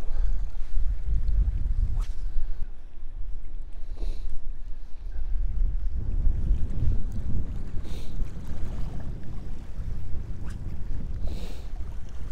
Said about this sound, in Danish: Så har vi fået medvind.